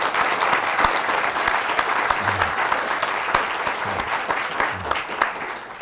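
A large audience gives sustained, dense applause to welcome a speaker at a Jayhawk lecture event, the clapping steady and close throughout with no voices over it.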